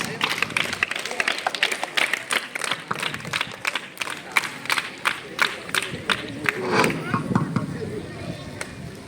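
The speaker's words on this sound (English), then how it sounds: "Give them claps." An audience clapping for students on stage at a school event, a run of sharp, loud, evenly spaced claps in a steady rhythm with crowd murmur and voices underneath.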